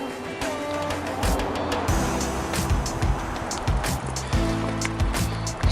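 A car drives past near an RV resort campground under wildfire smoke, its engine and tire rumble steady and fairly close, with no talk over it.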